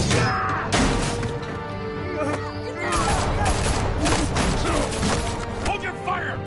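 Gunfire in Batman: The Telltale Series, a rapid, uneven burst of several loud shots and crashes over a tense game soundtrack, with voices in the mix.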